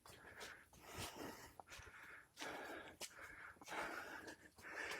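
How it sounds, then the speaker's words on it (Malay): Heavy, loud breathing right into the microphone on a hill walk at Bukit Tokki in Kuantan, a rhythmic series of harsh wheezing breaths and gasps, close and continuous. "Bunyi nafas kuat sangat."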